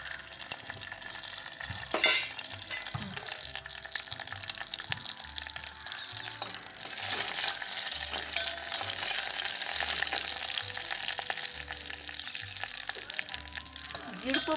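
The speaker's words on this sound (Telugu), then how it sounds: "గిన్నెలో వేసాక జీడిపప్పు, కిస్మిస్లు దీంట్లో వేపేసేసి పక్కన పెట్టేస్తాం" Cashews and raisins fry in ghee in a pot for halwa, giving a steady crackling sizzle with scattered pops and stirring scrapes beneath a low rhythmic background.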